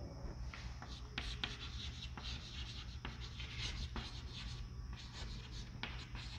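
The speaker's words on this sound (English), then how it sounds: "I'm writing" Chalk or marker writing on a classroom board during a history lesson, a quiet run of scratchy strokes and taps in uneven bursts, close and faint, with no talking.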